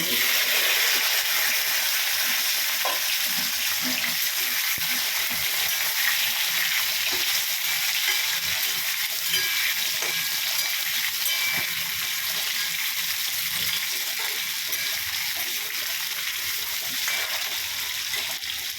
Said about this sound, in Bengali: এই দেখো লঙ্কাটা ওটা একটু সুন্দর গন্ধ উঠেছে, একটু ভাজা ভাজা হয়ে এসছে